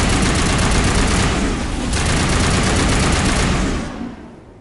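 Sustained rapid gunfire with incendiary rounds in Mass Effect, loud and dense bursts of shots that dip briefly near the two-second mark, then die away toward the end, with no talking.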